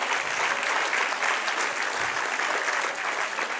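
Steady applause from a church congregation, a dense wash of clapping that continues evenly throughout at moderate loudness.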